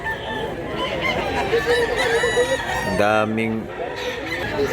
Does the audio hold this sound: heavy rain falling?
no